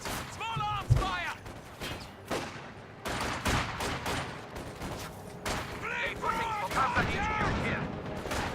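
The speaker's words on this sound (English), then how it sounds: "Contact! Small arms fire!" Small arms gunfire in a military game, with sharp bursts and scattered shots cracking through a busy battle backdrop, mixed with voices and radio chatter throughout.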